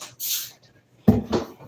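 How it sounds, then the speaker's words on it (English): A cleaning spray bottle is pumped in a bathroom, giving a short close hiss of mist, followed after a pause by a louder burst of spraying and handling noise. "More spray."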